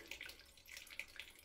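Water pours out of a jug in a steady splashing trickle with small bright splashes, close by, while ethanol is separated from petrol, with no voices.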